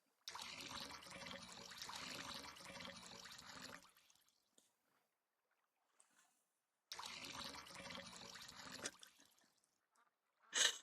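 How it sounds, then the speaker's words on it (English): Water pouring in a game, a hissing rush that runs for about three seconds, stops, then repeats, with a brief sharp click at the end; quiet and looping. "All I can hear is that water pouring sound over and over"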